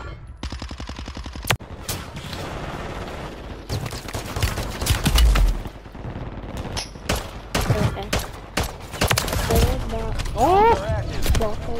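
Gunfire in a first-person shooter video game, rapid bursts of automatic fire and sharp single shots in clusters throughout, with a player talking and exclaiming over the shooting.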